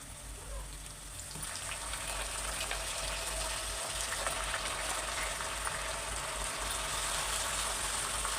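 About half a kilo of mutton pieces is rinsed in water, making a steady, close splashing and trickling wash that rises after the first second and continues evenly throughout.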